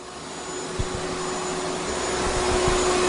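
A vacuum cleaner hoovers a radio studio with a steady, loud motor roar and a constant whine, close by and building slightly, with a few faint knocks underneath.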